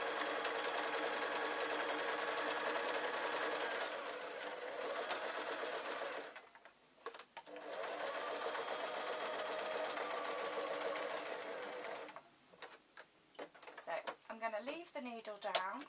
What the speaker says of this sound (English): And then it's a simple matter of then sewing round.